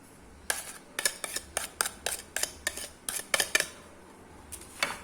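Spoons clink and tap against a mixing bowl as gram flour, rice flour, chili flakes, cumin, salt and coriander are added for potato bajji batter, a dozen or so sharp, close metallic taps in an uneven rhythm.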